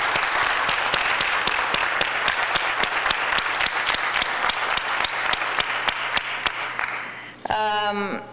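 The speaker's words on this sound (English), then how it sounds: "and that is for Ana Lucia, which I want all of you to make a clap of recognition." Loud, sustained applause from a crowd for several seconds, fading out before a voice starts speaking.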